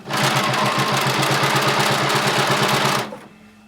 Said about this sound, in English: I'm going to back stitch at the beginning and at the end.